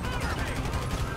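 Rapid gunfire in the GTA Online five-star challenge: a dense, continuous stream of shots with a quick pulsing rhythm, loud and close, with no talking.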